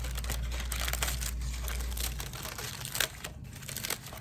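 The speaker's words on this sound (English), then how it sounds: "So you could get some scissors and just a nice little trim will make it work really nicely for you." Scissors trim wax paper with crinkling snips and rustles, close and continuous with a few sharper cuts, a low hum underneath.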